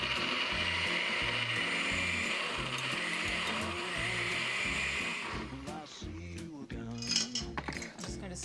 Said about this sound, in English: Now this gets blended, shells and all.